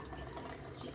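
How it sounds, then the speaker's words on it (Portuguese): Alcoholic drink poured from a cup into a pot of quentão, a hot spiced drink with apple, giving a soft, steady liquid trickle and splash up close throughout. "Colocando aqui a bebida, ó."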